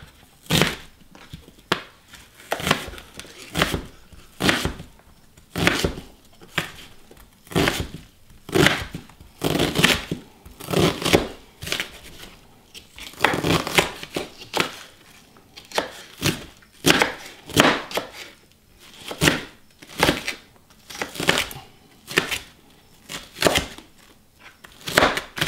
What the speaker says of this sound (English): I love chopping onions